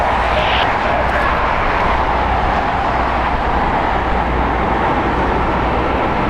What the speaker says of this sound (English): there's that DHL from Phoenix, touching down here on 25 left